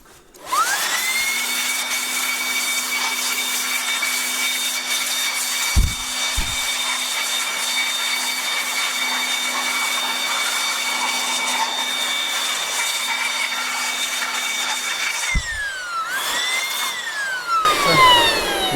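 A small electric air blower is run to blow bees off frames for sampling at a Buckfast beehive, a steady high motor whine with tonal hum that holds for about fifteen seconds, then winds down and restarts briefly with a rising pitch.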